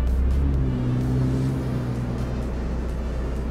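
A Bentley drives along with a steady, close low engine rumble under constant road noise, the pitch easing slightly as it cruises; no one speaks.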